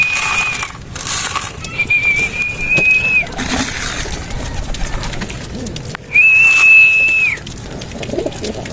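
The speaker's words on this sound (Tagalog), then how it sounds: "Papakain muna tayo mga kalapatids." Pigeons being fed at a loft, with soft cooing and bird calls over a busy outdoor background, broken by two sustained high whistles.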